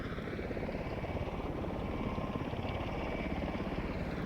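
V-22 Osprey tiltrotor engines roll forward on the ground, a loud, steady, throbbing rotor drone with a rapid pulsing beat and a broad whining roar, continuous with no voices.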